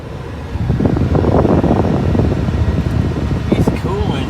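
Inside a 1970 Dodge Monaco on a test drive after a new alternator was fitted, a steady road rumble and blowing air conditioning fill the cabin while someone talks over the noise.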